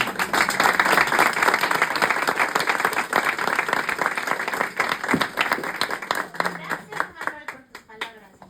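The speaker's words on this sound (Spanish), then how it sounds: "damos paso con un fuerte aplauso" An audience at a book presentation breaks into strong, sustained applause, dense clapping that slowly thins out over several seconds, with voices mixed in.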